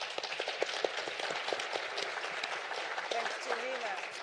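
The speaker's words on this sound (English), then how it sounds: "Can we please give them a round of applause?" Conference audience applauding the panelists of a competition law and economics session, moderate clapping with sharp individual claps, voices talking over it toward the end.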